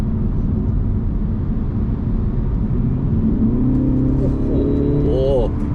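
A Mercedes-Benz CLE in sport mode accelerates from about 60 to 80 km/h, a loud, steady engine and road rumble heard from inside the cabin. The pitch of the engine climbs toward the end.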